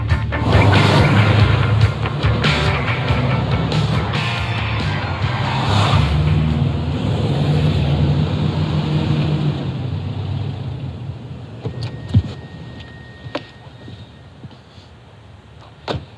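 A 1997 Subaru Impreza WRX STI V3 V-Limited with gold wheels powers out of a bend, its engine roaring loudly up close before the sound fades into quieter road noise and scattered knocks.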